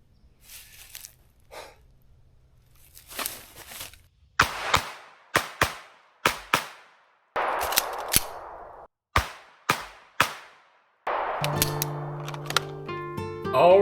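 A pistol fires at an outdoor range during a shooting drill with a magazine change: sharp, loud reports come in quick clusters, broken by a pause, with faint breathing and movement early on.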